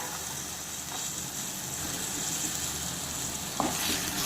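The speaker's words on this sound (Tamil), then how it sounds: "இப்போ ரெண்டு நிமிஷத்துக்கு முருங்கைக்காய் எண்ணெயில் நல்லா வதங்கி வரட்டும்" Cut drumsticks (moringa pods) fry in oil with a little salt for a drumstick gravy, an even, moderate sizzle throughout, with a quick stir clinking near the end.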